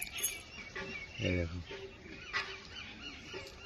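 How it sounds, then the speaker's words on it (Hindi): Pigeons squabble with each other, giving short throaty coos and flaps at close range, while a person talks over them. "ये झगड़ा करने वाले कबूतर इधर ही हैं। ये तीनों झगड़ा करते हैं आपस में।"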